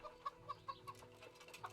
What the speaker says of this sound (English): I wonder if there's any chickens over there then.